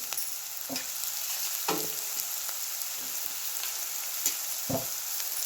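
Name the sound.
garlic-coconut masala frying with bitter gourd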